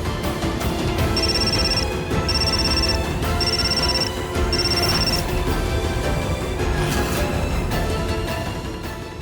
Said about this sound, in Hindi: किसका फोन है? सुमन, दिखाओ मुझे किसका फोन है।